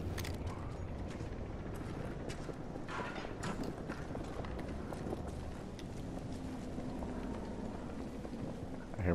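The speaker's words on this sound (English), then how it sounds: "I hear more footsteps." Footsteps clatter across hard ground in Battlefield 2042, a run of quick, close, clicky mechanical steps layered over busy battle ambience, without any talk.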